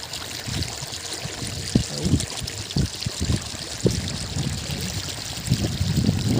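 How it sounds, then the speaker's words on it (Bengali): Irrigation water trickles and gurgles steadily through a cabbage field, a low continuous flow with occasional small splashes, close by and without talk. "এই জল যাচ্ছে, এই কপি বাগানে সেচ চলছে।"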